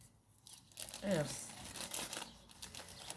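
Paper crinkles and rustles in short bursts as it is pushed into place during a craft project, close and fairly quiet, with a person speaking French around it.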